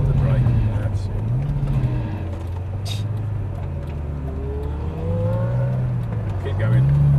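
Lamborghini engine droning low and steady while accelerating uphill on a race track, pitch rising and falling with gear changes under a driving instructor's continuous coaching voice.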